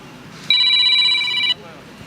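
A telephone rings once with a single steady electronic tone lasting about a second. It is fairly loud against a quiet room.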